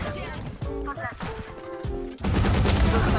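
Rapid video-game gunfire, a dense continuous burst under a player's chatter and game voices, steady and loud until it cuts off when the ammo runs dry.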